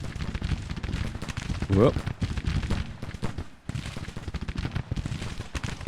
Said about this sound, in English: The artillery's found itself a target.